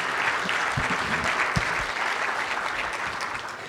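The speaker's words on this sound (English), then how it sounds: "Let's give her another round of applause, Dr. Reeves." An audience at a food security symposium applauds, steady dense clapping throughout with a few scattered louder claps.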